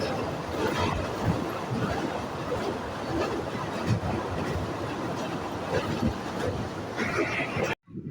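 A passenger train runs between Katakhali and Jessore, heard from on board as a dense, steady rumble and rattle of wheels and carriages, continuous and close before cutting off abruptly at the end.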